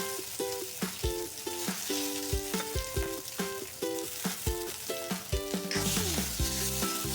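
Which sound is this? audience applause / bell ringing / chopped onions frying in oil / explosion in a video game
chopped onions frying in oil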